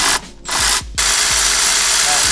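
A ratchet wrench works on a toy Barbie Jeep ride-on, giving two quick close bursts of clicking before a steady mechanical rattle carries on.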